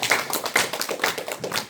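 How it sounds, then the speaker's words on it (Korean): Audience members at a lecture on Admiral Yi Sun-sin's naval leadership clap briefly, a short burst of rhythmic hand claps that sounds close and lively. "여기서는 박수 한번 치셔야 돼요"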